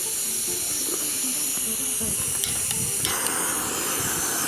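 Jetboil Flash camp stove burner outdoors in cold snow, its flame giving a steady close hiss throughout with a few faint clicks and rustles.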